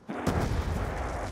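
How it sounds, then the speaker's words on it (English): A grenade blast in the Black Ops 2 Tranzit zombies mode, a sudden loud boom that swells into a long, rumbling roar and stays dense and heavy for over a second, with no voices over it. "here you open the vault by throwing a grenade, throwing another grenade over there to your right side"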